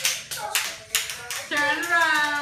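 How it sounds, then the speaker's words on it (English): A child claps hands while dancing at home, giving a few sharp, close claps at an uneven pace before a voice rises over the end. "Clap your hands"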